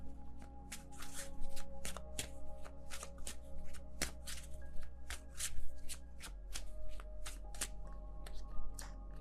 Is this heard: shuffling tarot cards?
yes